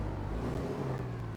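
A truck engine in American Truck Simulator runs at a steady low hum with a smooth, even drone and slight whir, fairly quiet and without talk.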